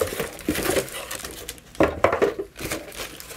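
Mechanical keyboard, a Max Keyboard Nighthawk X9 backlit model, pulled from its box: close, loud crinkling and rustling of packaging in irregular bursts, with a sharper tearing rustle midway.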